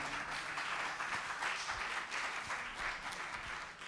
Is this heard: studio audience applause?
yes